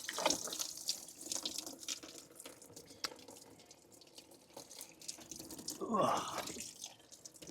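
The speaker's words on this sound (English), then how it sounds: "Coolant is draining actively everywhere." Coolant drains and trickles out of a C4 Corvette engine during a ZZ4 cam swap, a faint steady splashing and dripping with a brief louder gurgle near the end.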